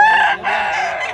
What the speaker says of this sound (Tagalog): Big size nga manok.